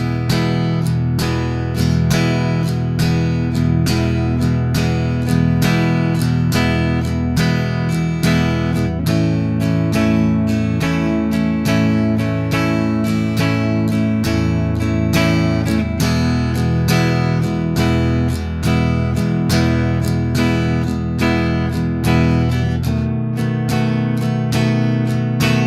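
Guitar playing a 12-bar blues in E with a swing feel, the strummed chords and bass notes pulsing in a steady shuffle rhythm throughout, close and loud with no talking over it.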